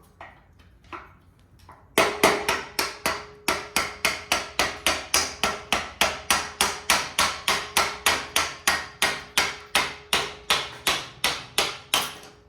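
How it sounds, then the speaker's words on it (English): A hammer strikes a motorcycle's rear wheel axle in a fast, even series of about thirty sharp metallic taps, loud and close, after a quiet start. "Would you mind tapping out that axle?"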